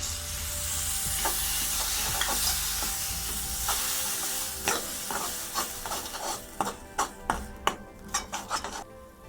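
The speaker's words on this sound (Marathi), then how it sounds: "दोन मिनिटं आपण चांगलं हे मसाला परतून घेतलाय." Malvani red masala with turmeric, coriander and ground dry coconut fries in a pan for mutton gravy. A steady sizzle runs under repeated scraping stirs that grow sharper and more rhythmic toward the end.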